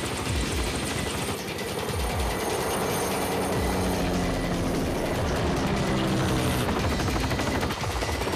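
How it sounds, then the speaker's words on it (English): Military helicopters lifting off in pursuit during a futuristic prison death race, a loud continuous roar of rotors and engines with heavy mechanical rumble and what sounds like gunfire, constant and close throughout. "Get the choppers in the air!"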